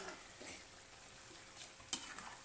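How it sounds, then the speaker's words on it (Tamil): Country chicken pepper fry stirred in a pan, a soft continuous sizzle with light scraping strokes and one sharp clink near the end, fairly quiet and close. "இப்போது இதை ஒரு பரட்டு பரட்டி விட்டுட்டு தட்டால் மூடி வச்சிடணும்"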